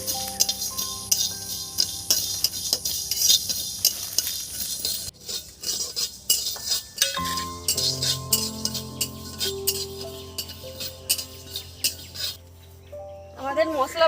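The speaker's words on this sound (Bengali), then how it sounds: "এখন এই মশলা এরকম ভাবে বানানো চলছে, মানে ভাজা চলছে" Spices dry-roasting in a pan for fuchka masala, with steady scraping and stirring and occasional metallic clinks of a spoon against the pan, and a brief pouring clatter near the end.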